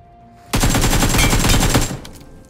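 AKM rifle fire in the PUBG battle royale game: a loud, rapid automatic burst lasting about a second and a half, close and unaccompanied, starting abruptly and tailing off into faint game noise.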